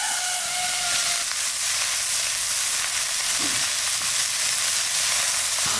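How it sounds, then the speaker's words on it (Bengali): Kalai greens and fish fry in a wok with a constant loud hissing sizzle, joined by occasional soft scraping as the mixture is stirred. "এইবার কলাই শাক দিয়ে দেবো।"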